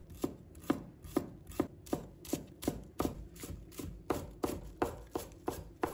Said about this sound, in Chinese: 再准备一把小葱，把它切成葱花。